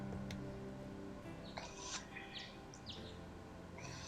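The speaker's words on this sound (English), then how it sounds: "The only sound you could hear was birdsong." Birdsong from the visual novel game Hakuoki SSL, in a quiet empty school setting: scattered faint chirps and short tweets drift over a steady low ambient hum, with no voices present.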